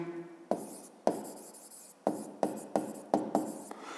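Pen strokes scratch across paper during a seventh-grade physics problem worked by hand, a run of short close raspy bursts with brief gaps, no talking.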